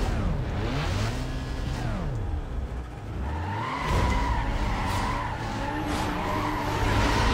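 Race cars in Need for Speed: Most Wanted (2005) launch at the start of a race, engines revving and rising in pitch through gear changes as tires squeal and skid, loud and continuous.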